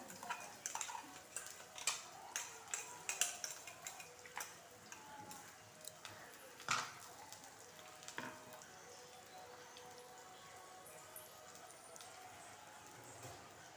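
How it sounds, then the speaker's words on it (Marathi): Ground masala paste sizzling and frying in hot oil with curry leaves for an eggplant curry, a steady crackle with scattered ticks and pops that are busier early and thin out toward the end, fairly quiet and heard alone. "आता वाटण सुद्धा छान आपल्याला तेलामध्ये परतून घ्यायचं आहे"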